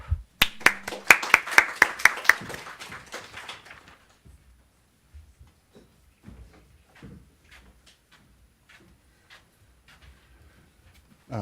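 Scattered applause welcomes Professor Nicholas Rauh at a lecture event, a burst of claps that quickly thins out into a few stray claps and shuffling sounds in a quiet room.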